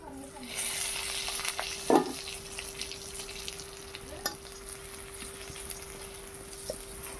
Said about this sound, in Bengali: কারকুল ভাজি হয়ে গেছে।